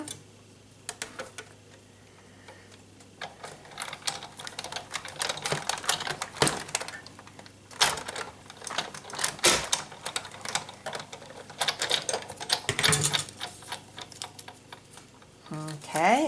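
Die-cutting machine pressing paper through a die with a Good Man and Magnolia Lane die, giving an uneven run of sharp clicks and ticks over a low steady hum, with brief speech in the background.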